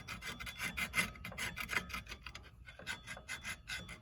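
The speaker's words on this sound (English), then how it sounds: "It'll come off fairly easy now. So just do a good scrape down." A scraper is worked against flaky corrosion on the rear brake hub of a Mazda 5, making rapid, close, rasping strokes in a steady back-and-forth rhythm with no talking.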